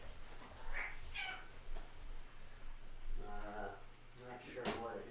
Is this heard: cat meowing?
yes